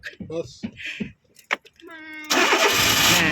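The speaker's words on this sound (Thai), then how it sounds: "สตาร์ทรถอีกแล้วค่ะ" A car engine cranks with a rising whine and catches, then runs at a loud steady idle close by, after a few short bursts of people talking and children's voices.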